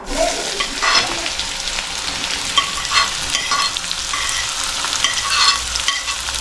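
Onion and cumin fry in sunflower oil while a spoon stirs, giving a steady close sizzle with soft scraping strokes repeating throughout, with no talking.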